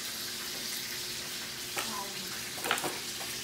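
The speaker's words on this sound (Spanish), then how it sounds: "ya tengo el pollo allí sofriendo" Chicken sofrito frying in a pan for pollo guisado gives a steady, soft sizzle throughout, with a few louder spatters and crackles near the end.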